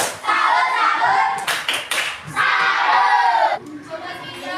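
A group claps together in a rhythmic chant-like pattern, with bursts of clapping separated by short pauses, close and lively, with voices mixed in.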